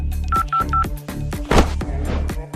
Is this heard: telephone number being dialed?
yes